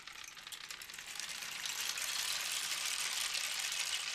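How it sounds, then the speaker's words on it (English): A large rain stick tipped slowly over, its pouring rattle of falling beads building into a steady rain-like hiss that grows louder and holds near and continuous, with no talk. "I'll show you my rain stick. So you ready? This is something that sounds like rain."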